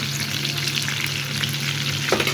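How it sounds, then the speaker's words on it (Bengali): Chicken pieces sizzle steadily in hot oil, a continuous close crackle with a low hum beneath and a brief louder stir near the end, for a chilli chicken fried rice. "মাংসটা আমার ভাজা হয়ে গিয়েছে"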